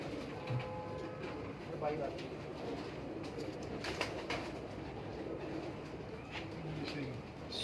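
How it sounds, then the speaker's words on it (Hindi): A breeder's pigeon in Gujranwala, Pakistan, coos softly in a low, repeated murmur amid steady background noise while someone talks over it. "ये कबूतर है।"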